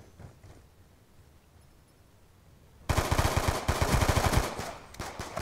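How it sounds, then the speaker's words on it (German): Rapid automatic machine gun fire in the video game Black Ops II bursts in loudly after a quiet stretch, a fast rattling stream of shots lasting a couple of seconds, with no voices. "Kommt da von der Seite und ballert mich um den Haufen."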